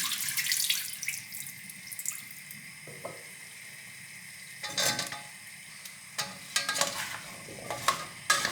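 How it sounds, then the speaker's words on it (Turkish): Celery with salt and sugar is stirred in a bowl: scattered wet scraping and clattering strokes, some sharp and close, over a soft background hiss. "Şöyle bir karıştırıyorum."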